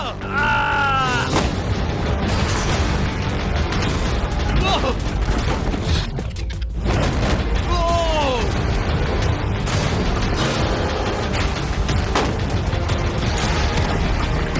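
Shots are fired at a container holding $500,000 in cash, each one a sharp crack or thud. Repeated bursts of impacts sound amid steady background noise, with excited voices talking over them.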